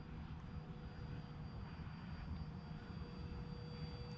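A radio-controlled F-35 model jet flies outdoors, its engine making a steady, continuous drone with a faint whine, heard at a distance and fairly quiet.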